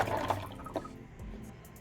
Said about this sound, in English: All right, so pour the peroxide.